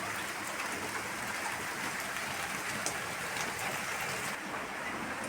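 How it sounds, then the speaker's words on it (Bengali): Steady rain falls outside a home kitchen, a dense continuous hiss close by that holds even throughout with no voices over it. "এখন বৃষ্টি পড়ছে।"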